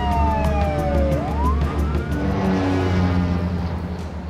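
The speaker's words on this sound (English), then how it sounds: "At the airport, emergency vehicles race to positions near the runway" Emergency vehicles race toward an airport runway, a wailing siren sweeping down and rising again over loud engine roar and rhythmic pulsing, close and prominent with no speech.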